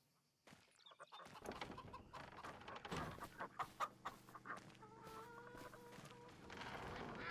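Several chickens in Farming Simulator 25 cluck and squawk in short bursts, a busy farmyard chorus that builds and then settles into steady clucking.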